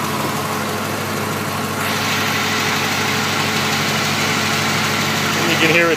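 A 1992 Corvette convertible's LT1 V8 engine idles steadily up close with a low, even rumble, its level swelling slightly near the end; speech is faint beneath.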